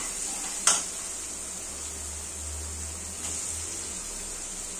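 Tomatoes with mint, coriander and curry leaves sizzle steadily in a pan, a soft continuous frying hiss with a brief clatter of stirring near the start.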